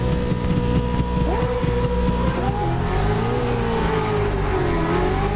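V8 Supercars racing around a tight street circuit in the Assetto Corsa video game: loud, continuous engine roar with rising and falling revs as several cars accelerate and shift, no voices over it.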